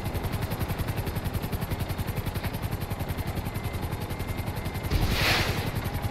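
Helicopter in Grand Theft Auto 5 gameplay, a steady rapid rotor chop with engine drone running throughout, loud and close, with a brief louder hiss-like swell near the end.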